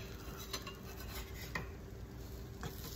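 Cinnamon French toast sizzles in a small buttered pan on medium heat, a soft steady frying hiss with faint clinks of a utensil against the pan now and then, nothing spoken.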